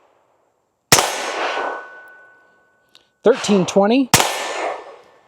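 A suppressed Ruger Mark IV 22/45 pistol fires Federal Punch ammunition in two sharp, cracking shots with a metallic ring and short tail, close and loud, separated by a brief spoken number.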